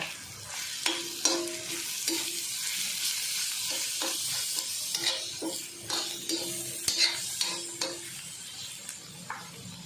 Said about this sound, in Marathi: आता आपण याच्यामध्ये मिरची लसूण आणि कोथिंबीर यांचा ठेचा टाकूया